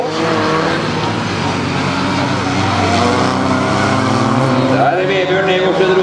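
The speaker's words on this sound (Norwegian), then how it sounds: "ja, vi har fem biler gående altså" Junior rallycross cars race on track in a bilcross A-final, several engines roaring loudly together and continuously, with crowd and commentary noise blended in.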